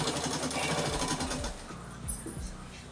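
A sewing machine stitches a salwar in a steady run of rapid mechanical clatter, fairly quiet and close, slowing slightly toward the end.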